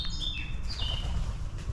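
Several woodland birds chirp and whistle nearby in an ancient Wiltshire forest, with short high calls over a steady low ambient rumble.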